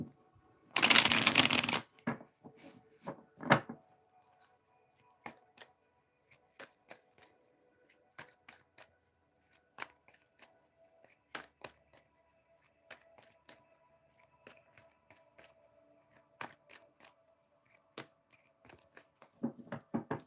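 Tarot guidance cards being shuffled: a loud riffling burst up close near the start, then scattered soft card flicks and taps, with another shuffle at the very end.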